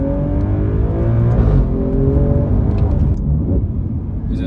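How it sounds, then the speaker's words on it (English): Alfa Romeo Giulia Quadrifoglio exhaust in race mode, a loud, steady engine rumble with a deep droning tone that swells and eases while the car is driven on the road. "So you can hear it now, it's in race mode"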